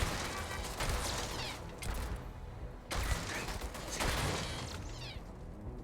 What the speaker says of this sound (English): Oops, that was a turret